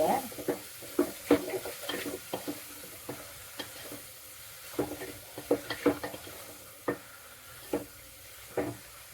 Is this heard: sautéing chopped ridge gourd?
yes